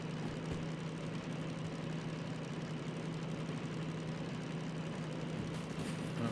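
Diesel engine of a DM3 locomotive in the Derail Valley train game, a steady low droning hum with a constant tonal note, fairly quiet and unchanging, no voices.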